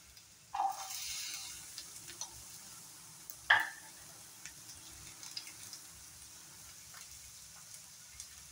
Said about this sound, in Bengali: এখানে আমি কেটে রাখা পেঁয়াজটা দিয়ে দেব।